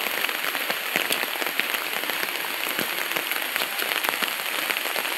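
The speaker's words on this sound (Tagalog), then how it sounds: "Ulan-ulan na gyud ni permente" Heavy December rain pours down steadily, a dense, loud hiss of drops striking surfaces with scattered sharper patters, unbroken and with no voices.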